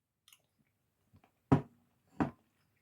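Close, moist chewing of a bite of shell pasta with ground beef and corn, two soft squishy chomps after a few faint mouth clicks, with no talking.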